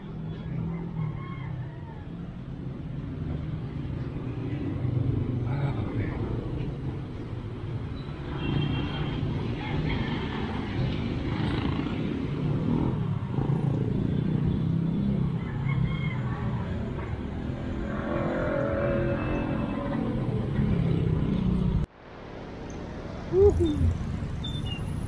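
Continuous road traffic with cars and motorbikes passing on a busy street in Batasan, engines droning and revving throughout, with a rooster crowing nearby and a brief dropout near the end.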